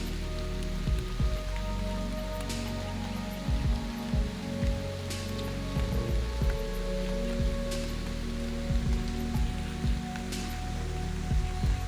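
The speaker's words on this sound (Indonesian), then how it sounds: "Karena kondisi hujan nih teman-teman" Rain falls steadily at a fishing spot under a tree, a constant close patter and hiss of drops on surfaces with occasional louder splats, continuous throughout with no talking.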